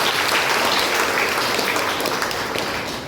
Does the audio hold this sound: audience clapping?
yes